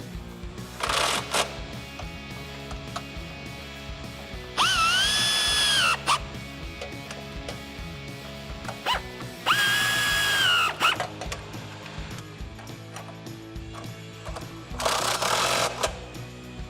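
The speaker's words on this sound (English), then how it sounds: "we're going to swap that 13mm socket back in and tighten up these last 2 bolts on the step" A power tool fitted with a 13mm socket drives bolts into a side step on a two-door Jeep Wrangler JL, sounding in three loud whirring bursts spaced several seconds apart, with workshop clatter between them.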